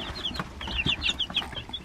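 Meat birds and laying hens cluck busily, a close flurry of short overlapping calls and chatter from a mixed flock of chickens.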